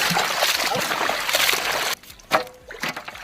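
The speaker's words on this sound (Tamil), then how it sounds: "தண்ணி ஊத்தவா ஊத்து தண்ணி ஊத்து ஊத்து" Water poured during village cooking of goat fry, a broad splashing trickle running steadily for about two seconds, then cutting off to quieter sloshes and brief splashes.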